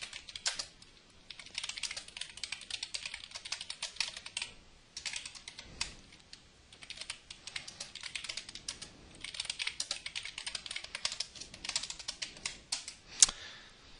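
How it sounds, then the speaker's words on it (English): Steady rapid typing on a computer keyboard while writing C# code, with dense clicking keystrokes in bursts and short pauses, close and clear with no talking. "wow, that was quite a bit of typing"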